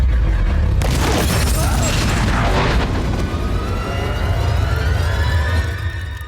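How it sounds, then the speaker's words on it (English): A loud, sustained explosion effect for an "Exploding Star" special attack in a live-action pirate adventure scene, beginning with a sudden deep boom and then rumbling and crackling without letting up, with debris-like hiss and faint high whines through to the end. "Special attack! Exploding star!"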